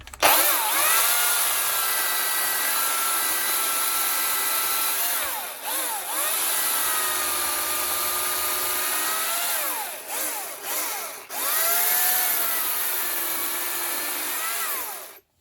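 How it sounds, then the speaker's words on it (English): A Makita UC3520A electric chainsaw with a freshly sharpened chain cuts through a log about 4 inches across, a loud steady whining buzz that dips briefly as the cut finishes and the motor runs again. "let's chop up a log and see how we get on. I've just sharpened the chain"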